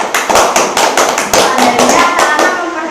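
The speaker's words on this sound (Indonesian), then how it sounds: "anak-anak bisa beri tepuk tangan untuk kita semua." Primary schoolchildren in a fifth-grade classroom clap together in quick, loud, rhythmic bursts, close and sharp, with the pattern easing slightly toward the end and no talking heard.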